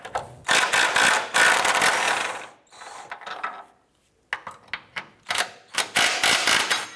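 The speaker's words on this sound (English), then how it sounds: "Using a 17mm socket, we're going to go ahead and remove these two bolts" A ratchet wrench with a 17mm socket loosens and removes transmission mount bolts on a 2004-2008 Acura TL, giving loud bursts of rapid clicking separated by short pauses, close up.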